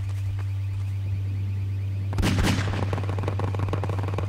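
Enemy gunfire in Half-Life 2: a sudden burst of loud rapid shots beginning midway, over a steady low hum, continuing as repeated cracks to the end.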